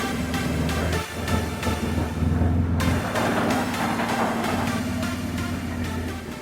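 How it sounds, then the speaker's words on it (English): A Can-Am off-road vehicle driven along, a steady droning engine hum with a continuous low rumble, close and unbroken, with a brief dip in the middle. "Let's hop in and drive it back to the shop."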